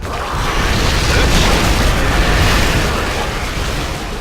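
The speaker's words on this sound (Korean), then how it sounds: "이제 폭발한다" A big explosion in the real-time strategy video game StarCraft II: a loud, dense, roaring blast of sustained noise that fills the whole moment with no pause, and no talking over it.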